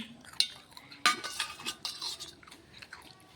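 Khichuri cooking in a pot is stirred with a metal utensil, giving close scraping, clinking knocks against the pot sides and soft wet bubbling in an irregular rhythm, no voices.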